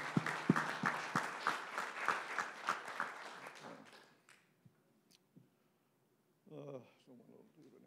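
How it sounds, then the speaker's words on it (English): Scattered applause from a small group at a board meeting, individual claps audible as distinct taps that thin out and stop after a few seconds, followed by quiet and a brief voice. "a little round of applause for all these hardworking people"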